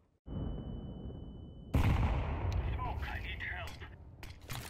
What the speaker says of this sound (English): So the bomb is planting